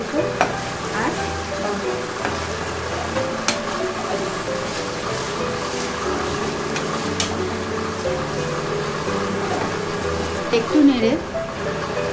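Chopped ginger and garlic stir-frying in a pan for egg bhurji, a continuous close sizzle with scraping and stirring clatter throughout, a humming background machine and a few sharper spatula knocks near the end.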